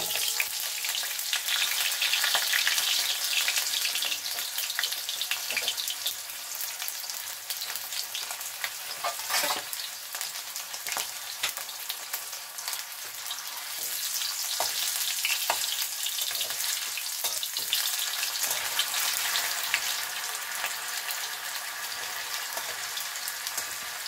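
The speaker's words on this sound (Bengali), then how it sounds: "এবার দেবো একটু জিরে ফোড়ন, তারপর দিয়ে দেবো আলুটা।" Cumin seeds and potatoes fry in hot oil, giving a loud continuous sizzle with scattered spitting crackles close to the pan. The hiss swells and eases slightly over time, with no talking.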